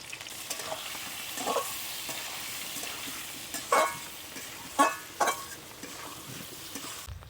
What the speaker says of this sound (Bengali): আমাদের একদিকে রান্না আলু ভাজা চলছে